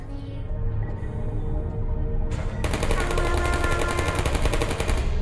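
Rapid automatic gunfire from Portal's sentry turrets, a dense continuous rattle that swells louder and brighter partway through and holds steady, close and loud with no talking.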